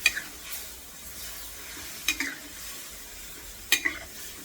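Shrimp stir-fry in a pan for pad thai under a soft continuous sizzle, with three sharp scraping clatters of a utensil stirring against the pan at intervals; no voices.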